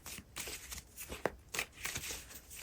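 Tarot cards being shuffled and drawn by hand, a series of soft papery riffles and slaps in uneven bursts, close and fairly quiet.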